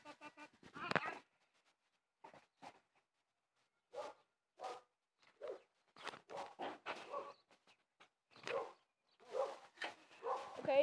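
A dog barks in scattered short bursts across the clip, with some sharp yips between the louder barks, while voices can be heard nearby.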